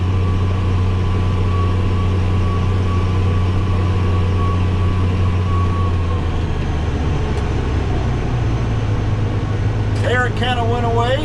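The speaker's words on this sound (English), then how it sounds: "When I slow the engine RPM down, you'll hear that sound go away" Case 305 tractor engine while disking old wheat and rye ground, a steady loud diesel drone whose tone drops partway through as the RPM is slowed, with a brief burst of other noise near the end.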